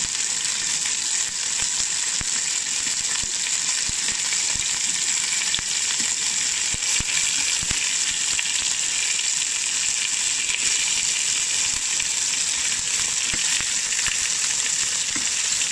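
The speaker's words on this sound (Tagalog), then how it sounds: "ipapry ko naman itong chicken thigh" Salted chicken thigh pieces fry in a pan, giving a steady bright sizzle throughout, close and even, with occasional light stirring scrapes and no voices.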